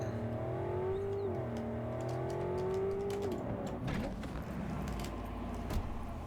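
A car in the video game Cyberpunk 2077 rolls with a steady engine drone and a rising, falling whine, and clattering impacts and scrapes follow near the end.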